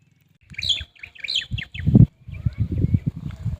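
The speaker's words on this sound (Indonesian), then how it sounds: "Suara burung berkicaunya bagus banget ya" Birds chirp in quick, bright bursts nearby, a few overlapping calls over lower murmuring sounds in an otherwise quiet setting.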